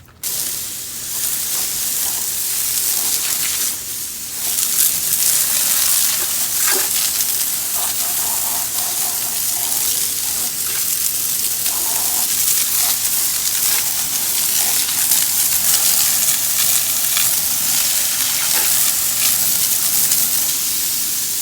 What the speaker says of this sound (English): we're just gonna rinse this stuff down